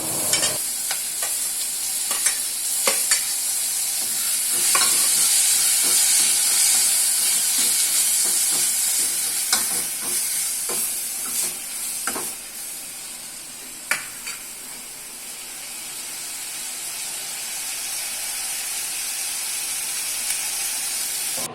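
Chopped tomatoes frying with onions in a pan as they soften, a steady close hiss and sizzle running throughout with frequent scraping stirs and spatula taps, fairly loud and with no voices.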